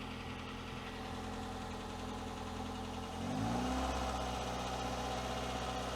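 A 2009 Hyundai engine idles steadily during an alternator load test, then revs up partway through, the pitch rising and holding at a higher, louder hum.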